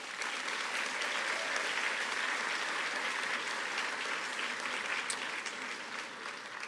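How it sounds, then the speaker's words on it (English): Graduation ceremony audience gives sustained, even applause for parents, a dense wash of clapping at moderate level with no pauses. "give them a round of applause"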